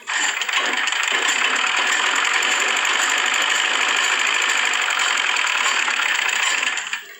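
A sewing machine runs continuously while stitching a kurta, with a steady, close mechanical whir and rapid needle chatter for about seven seconds before it stops.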